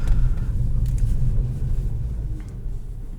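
2016 Volkswagen CC R-Line with a DSG dual-clutch gearbox in manual mode, downshifting: a low engine rumble with brief rev blips, heard from inside the cabin, easing slightly over a few seconds.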